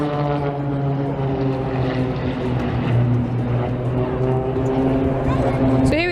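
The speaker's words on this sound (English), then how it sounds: "there's this stunt plane doing some interesting stunts" A propeller stunt plane flying aerobatics over a riverside in Budapest drones loudly and steadily, its engine pitch shifting as it maneuvers, with people talking nearby throughout.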